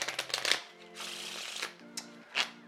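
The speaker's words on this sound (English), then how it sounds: "I'll give them a shuffle just to make sure." A deck of playing cards being shuffled by hand at close range, with quick riffling bursts and a few soft taps, fairly quiet and with no talk.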